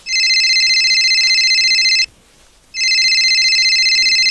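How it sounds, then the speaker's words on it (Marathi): A phone rings in a home with two bursts of electronic tone, a bright warbling ring separated by a short gap, loud and close with no talk over it. "रीता, तुझा फोन असतोय का?"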